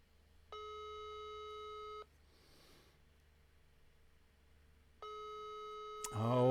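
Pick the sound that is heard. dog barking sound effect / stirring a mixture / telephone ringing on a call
telephone ringing on a call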